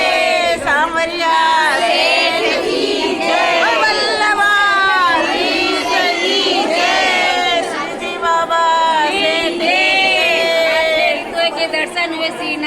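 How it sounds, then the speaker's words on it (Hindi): A dense crowd of devotees fills a temple hall at Shrinathji darshan with overlapping voices, shouts and chanting. The chatter is loud and continuous, with many people talking and calling out at once. "भीड़ भाड़ का बहुत अच्छा मजा आया"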